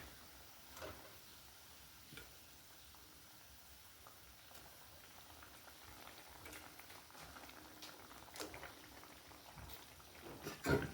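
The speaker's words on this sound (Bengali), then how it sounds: "ঝোলটা ভালো করে ফুটে গেছে।" Fish curry broth simmering in a pot in a village kitchen, a faint, steady bubbling with scattered soft pops and a couple of louder clinks near the end.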